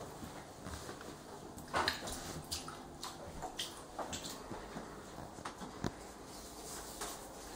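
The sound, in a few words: water flooding over in laundry sink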